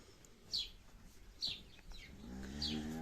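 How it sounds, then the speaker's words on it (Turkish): Several short high chirps ring out at intervals, followed by a low, drawn-out bovine moo that swells near the end over a steady outdoor background. "Neyse inekler geldi arkadaşlar."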